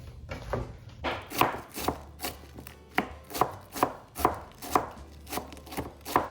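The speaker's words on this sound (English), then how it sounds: "I like to cut stuff by hand" Cabbage being finely sliced by hand with a knife on a board, a steady run of close, crisp chopping strokes at an even, relaxed rhythm, with no one talking.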